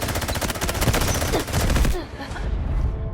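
Rapid gunfire in the mobile shooter game Delta Force Mobile, a dense stream of closely spaced shots that cuts off abruptly, followed by quieter game sounds.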